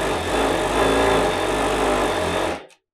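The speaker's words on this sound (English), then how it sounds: "And now I'm going to start to sew." A Reliable 3100IC direct-drive cylinder-bed coverstitch sewing machine stitching light material, a fast steady mechanical whir that runs loud and even, then stops abruptly near the end.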